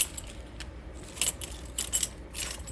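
A ring of keys for a 2022 Jayco Jay Flight 24RBS travel trailer jingles in several bright metallic bursts, close and fairly loud, with no speech.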